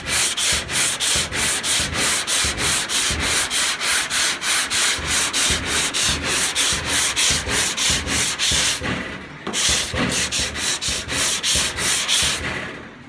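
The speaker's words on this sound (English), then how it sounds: "I'm blocking, I could block with 150 grit, but I don't want to change my block sandpaper" Hand block sanding on a car body panel with sandpaper, a steady run of rapid rhythmic back-and-forth rasping strokes, close and loud, with one brief pause near the end before the strokes resume; no talking.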